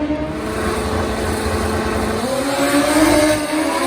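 An EFI drag racing motorcycle launches and screams down the strip on a fast run, a loud sustained engine howl with rising pitch as it accelerates, heard close and without voices.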